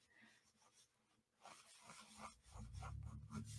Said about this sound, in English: you might hear my pencil moving